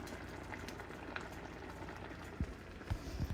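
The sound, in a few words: lemony risotto with peas bubbling in the pan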